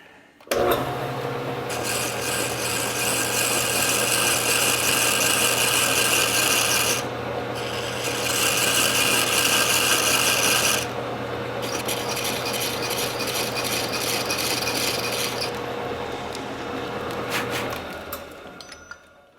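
Metal lathe cutting a forged iron stagecoach hub band with a 1/8-inch-wide wood lathe parting tool: a loud, continuous grinding rasp that drops out briefly midway, resumes, then stops with a few small clinks.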